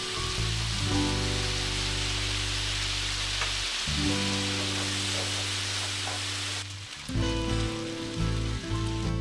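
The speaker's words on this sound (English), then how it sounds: "Drizzle the yakisoba sauce and toss to combine." Yakisoba noodles tossed with sauce in a hot pan, a steady loud sizzle and crackle running throughout, with brief dips and shifts as the noodles are turned and stirred; no voices.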